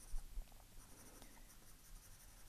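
Soft 6B Staedtler graphite pencil scratching across drawing paper while a panda is sketched, with quick faint strokes and a couple of firmer taps at the start, close and quiet, with no talk.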